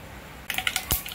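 Mustard seeds dropped into hot coconut oil while cooking a Kerala-style prawn roast give a few sharp, close crackles and pops in quick succession after a brief quiet moment.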